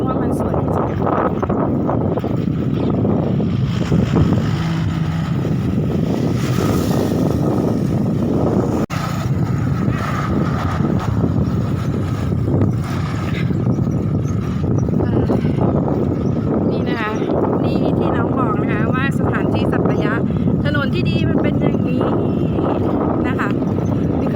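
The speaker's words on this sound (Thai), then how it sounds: "ได้ยินเสียงลมก็ให้ดูกันนะคะ" Steady wind gusting beside a quiet country road in Suphanburi, Thailand, a continuous broadband rush that buffets the microphone throughout, with faint traffic underneath.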